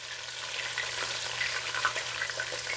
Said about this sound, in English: I'm gonna put the shrimp and let them get there. Try to fry them out